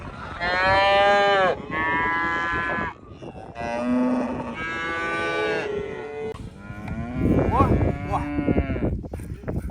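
Milk cows owned by nomads moo loudly and repeatedly at close range, long drawn-out calls following one another with brief pauses, over an outdoor backdrop.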